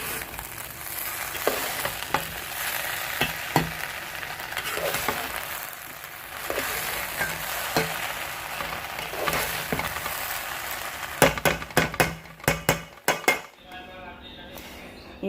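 Sweet jaggery rice (gur wale chawal) stirred in a light pan, with soft sizzling and scraping throughout and several sharp clinks of a spoon against metal near the end, faint talk in the background.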